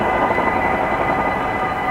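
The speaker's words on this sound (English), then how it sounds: "the beams are closing for a train" Steady, loud mechanical rumble and hum of a train passing a Dutch railway crossing where the barriers have closed, with a sustained broadband roar and no breaks across the stretch.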